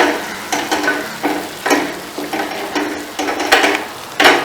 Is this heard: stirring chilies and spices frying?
yes